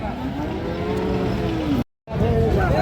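Bull calves about three and a half months old moo at a busy rural cattle market at Raniganj, with repeated drawn-out lowing over steady crowd noise and a short break of silence.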